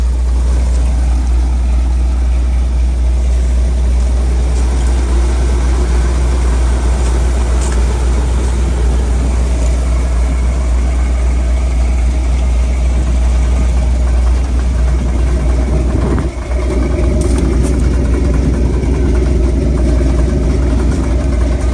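The engine of a 1978 Ford F150 pickup runs at a loud, steady idle with a deep low rumble for the whole stretch, and the drone of the spinning driveshaft sits under it.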